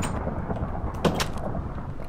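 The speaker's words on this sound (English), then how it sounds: "Is it me or is there suddenly a thunderstorm outside?" A thunderstorm rumbles outside in Minecraft, a low continuous roar with a louder crack or roll partway through, steady and fairly loud.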